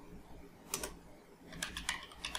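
Short bursts of keystrokes on a computer keyboard as JavaScript code is typed, quiet and close with brief pauses between clusters of taps.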